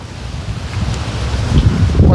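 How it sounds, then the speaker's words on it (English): Rain and wind outdoors, a loud steady wash of rumbling gusts and patter close to the microphone that swells slightly toward the end, with no voices. "Who decided to go out in this damn rain?"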